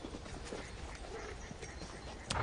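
Soft, quiet clip-clop of horse hooves beneath a muffled background hum, ending with a brief louder knock, no talking.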